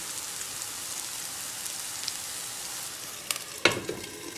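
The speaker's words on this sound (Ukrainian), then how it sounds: "До золотистої скоринки смажимо." Cabbage and vegetable cutlets sizzle steadily in a hot pan, frying to a golden crust with a constant crackling hiss, followed by a couple of sharp clacks near the end.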